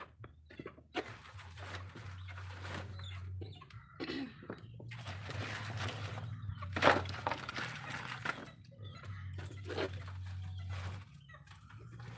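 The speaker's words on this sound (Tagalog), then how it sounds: "Kasi pinagtutuka na ng mga manok, oh." Chickens cluck and call intermittently at a moderate distance, with scattered rustling and a low steady hum in the background.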